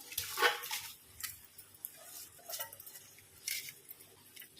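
Soaked rice is tipped with its soaking water into a pot of boiling water for egg biryani, making a few splashy pours and sloshes over soft bubbling, close by and with no talk.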